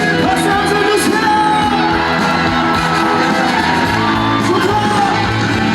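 At the Yeongdong grape festival, a concert crowd yells and cheers loudly and without a break, the roar packed close around the listener with music playing underneath.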